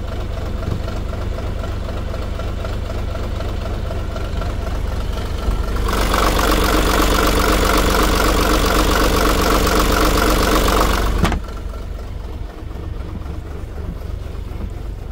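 A diesel engine held at 1000 rpm on old fuel during a fuel-cleaning job runs with a loud, steady rumble; partway through the revs rise into a stronger, brighter roar, then drop back to the lower idle.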